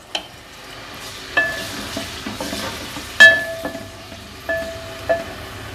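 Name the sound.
green chillies and onions frying together in a pan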